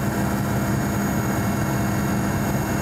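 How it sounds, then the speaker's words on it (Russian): A helicopter in flight in the Nenets region, a steady, dense engine and rotor drone filling the cabin, constant and fairly loud throughout with no talk. "Первую посадку вертолет совершает в поселке Каратайка."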